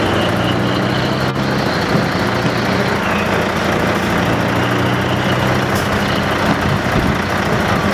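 A timber truck and a gravel truck race on a raceway, their engines producing a loud, steady droning roar that stays constant throughout, close by with no talk.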